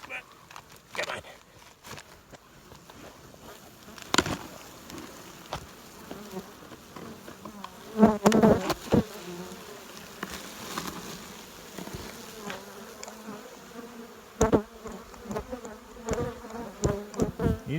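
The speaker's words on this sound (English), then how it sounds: "and a box of bees" A dense, steady buzzing of many bees around a hive box fills the scene, with occasional knocks and bumps of handling and brief louder swells of buzzing nearby.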